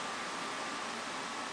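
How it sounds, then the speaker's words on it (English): Cooling fans in a PC running Mac OS X Leopard roar loudly and steadily, a dense, even whooshing hiss with no change in level and no talking. "the fans are running like crazy right now"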